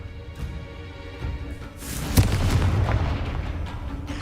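A Confringo fire spell bursts in the video game Hogwarts Legacy, a deep booming explosion that swells midway and rumbles on loudly to the end, with no voices over it.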